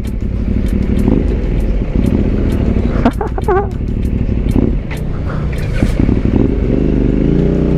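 SRT 800 motorcycle fitted with a VMAX Racing exhaust, running steadily with a continuous low engine drone and a few brief revving rises, heard up close while riding with faint wind and clatter.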